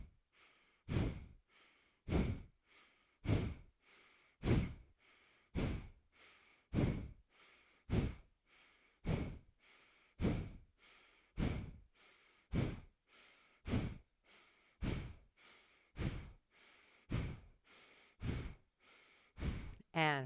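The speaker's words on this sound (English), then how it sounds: "Bhastrika breath if you'd like." Bhastrika bellows breathing in a yoga class: forceful, rhythmic breaths about one per second in a long, even series, close and strong, with no talking.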